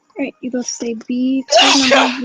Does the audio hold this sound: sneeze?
yes